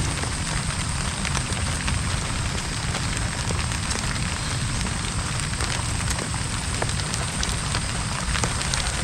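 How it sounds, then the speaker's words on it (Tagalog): Steady rain falls heavily as a dense, continuous hiss with scattered drop impacts, constant in level and with no voices. "Ayan na naman yung ulan."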